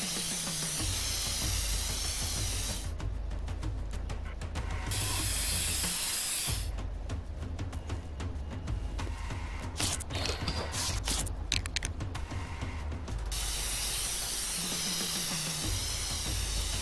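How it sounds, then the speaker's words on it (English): Spray paint cans hiss in long bursts in the game inFAMOUS Second Son, loud sustained sprays separated by short gaps, with mechanical clicks and rattles between them. "They become more than just spray paint and graffiti."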